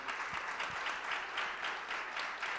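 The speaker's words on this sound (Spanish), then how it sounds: "vamos a darle un fuerte aplauso" A church congregation applauds together, a dense, even patter of many hands clapping at moderate loudness with no talk over it.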